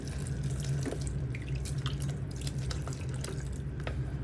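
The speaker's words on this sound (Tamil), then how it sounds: "ஒரு கப் மாதிரி தண்ணி சேர்த்துக்கோங்க" Water pours and trickles into a pressure cooker of kurma in a home kitchen, a soft steady splashing with faint drips, close and quiet.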